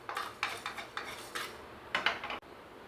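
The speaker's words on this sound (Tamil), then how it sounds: "நம்ம எடுத்து வச்சுருக்க உப்பையும் இதில் போட்டு அதில் இருக்க ஈரத்தன்மை போகிற அளவுக்கு கொஞ்சம் லைட்டாக வறுத்து எடுத்தால் போதும்" Salt dry-roasting in a pan while a spoon scrapes and stirs it, giving a series of light metallic scrapes and clinks at an even pace, quiet and close, with no talking.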